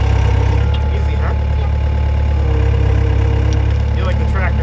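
Tractor engine idling nearby, a loud steady low rumble holding constant throughout, with faint talk over it.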